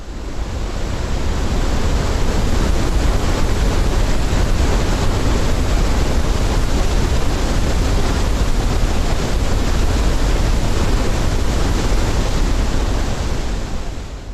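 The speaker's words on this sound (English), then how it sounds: "That is actually the sound of a waterfall" A waterfall pours with a loud, steady, broadband rush that holds level from start to end, like heavy surf or hiss, with no voices or other sounds over it.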